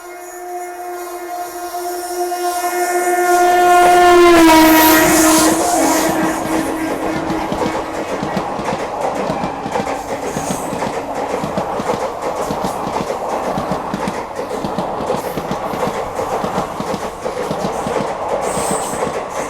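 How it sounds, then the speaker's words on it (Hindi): Duronto express train pulling away from a station after a short halt, a rising horn or whistle tone at first, then steady rolling rail noise and clickety-clack building and continuing loud and close throughout, with no talk. "ट्रेन जो है अलवा से सिर्फ 10 मिनट के हॉल्ट के बाद निकल गई"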